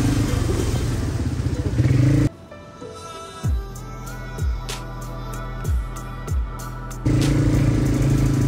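An ATV engine drones and revs while riding through jungle in Bali, loud and rough with wind buffeting at the start and end, and a quieter middle stretch of rhythmic revving pulses.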